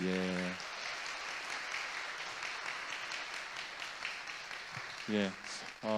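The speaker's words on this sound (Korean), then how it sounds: "우리 큰 박수로 환영하겠습니다" A church congregation at a Sunday service applauds to welcome two visiting missionaries from Brazil, a steady wash of clapping filling the room from end to end, with a voice speaking briefly at the start and again near the close.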